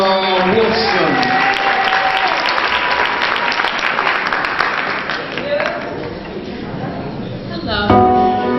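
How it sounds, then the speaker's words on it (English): A crowd applauds a singer at a high school idol contest, a broad wash of clapping with cheers and voices mixed in. Some musical tones sound over the clapping before it thins toward the end. "Let's have a big round of applause for Miss Lenora Wilson."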